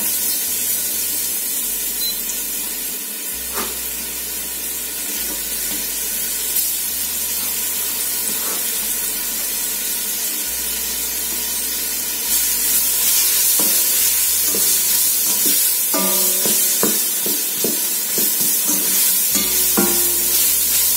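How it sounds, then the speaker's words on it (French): Onions sautéing in a pan for a salmon carbonara sauce, a steady bright sizzle filling the background with scattered scrapes and taps of a utensil, growing louder partway through, no voices. "Je vais donc bien faire revenir les oignons"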